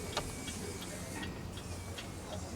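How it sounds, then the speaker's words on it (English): Steady, even ticking of a small porcelain clock, just overhauled and repaired, repeating at a regular pace over a low background hum. "So that's ticking nicely."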